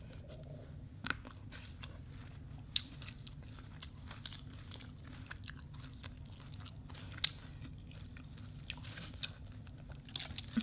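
Someone eating crunchy neem (sadao) leaves with Isan-style pork larb, faint close chewing and occasional sharp crunches over a low steady background hum, no talking.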